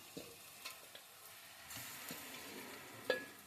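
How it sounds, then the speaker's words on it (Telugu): A soft, steady sizzle of chicken frying in oil with onions and green chillies, broken by a few light stirring scrapes and a brief clink near the end. "చూడండి, ఇట్లా కొంచెం ఫ్రై అయిన తర్వాత ఇప్పుడు అల్లం వెల్లుల్లి పేస్ట్ వేసుకున్నాం"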